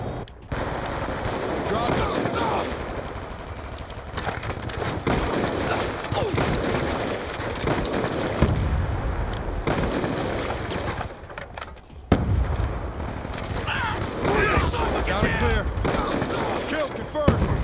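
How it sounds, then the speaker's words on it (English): Hellstorm missile strike and heavy automatic gunfire in Call of Duty Black Ops 2, loud sustained bursts and explosions rolling on for the whole stretch, with a player talking over the action. "Friendly Hellstorm missile inbound."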